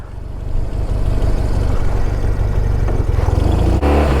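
An ex-police BMW R1200RT motorcycle rides in bad weather, its engine droning loud and close with a rising rev, wind and road noise layered over a steady low throb.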